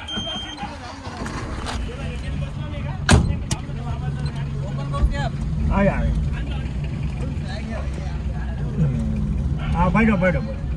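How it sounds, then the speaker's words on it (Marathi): Old 1998 Ambassador car riding near Kanyakumari station, a low engine rumble and road noise under frequent voices of passengers talking, with a couple of sharp horn-like tones. "बाबा आम्हाला अँबॅसेडर मध्ये घेऊन चालले"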